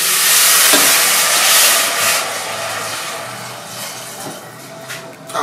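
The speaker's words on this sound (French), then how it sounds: "et on déglace avec de l'eau" Water hits a hot pan holding flour-dusted chicken thigh bones, raising a loud, steady hiss of steam and sizzle that runs unbroken throughout.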